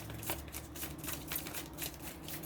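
A deck of tarot cards is shuffled by hand, giving a rapid, continuous flutter of riffling card edges with small slaps, quiet and close, and no voice.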